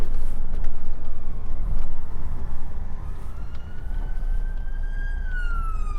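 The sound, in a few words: emergency vehicle siren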